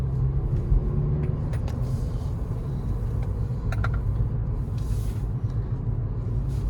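A 2021 Hyundai i30 N Line DCT hatchback driving on the road, heard from inside as a steady low engine and road rumble with a few faint clicks and rattles, no talk.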